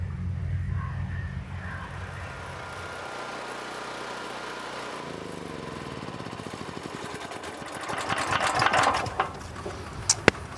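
A tractor engine runs steadily at a low idle, then revs up and grows louder toward the end, with a few sharp clicks near the close.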